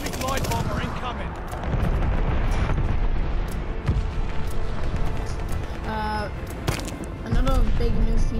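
A glide bomber strike lands in Call of Duty Vanguard, with heavy explosive booms and rumbling blasts alongside bursts of gunfire through a chaotic battle soundscape.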